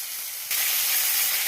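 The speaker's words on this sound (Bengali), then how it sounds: "তেল গরম করে নিয়েছি, মাছগুলো দিয়ে এক এক করে ভেজে নেব।" Fish frying one piece at a time in hot oil, a steady close hiss that jumps louder halfway through as the oil flares, with no voices.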